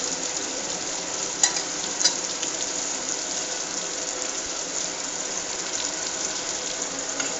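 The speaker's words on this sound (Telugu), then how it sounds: "ఇది ఈ విధంగా ఫ్రై అవుతుంది" Fish pieces sizzling in masala in a pan, a steady, even hiss of frying with a couple of faint clicks, no voices.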